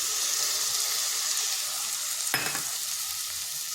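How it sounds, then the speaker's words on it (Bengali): A mustard and poppy seed paste fries loudly in a pan for a drumstick flower chochchori, giving a dense, steady sizzle with one sharp scrape of stirring partway through. "এরপর এখানে দিচ্ছি ওই সরষা আর পোস্তুর যে পেস্টটা"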